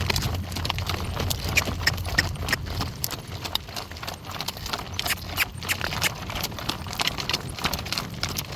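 Horse hooves trotting on a road during a Sunday morning drive make a steady, rhythmic clip-clop close by, with harness jingling and wind noise throughout and no talking.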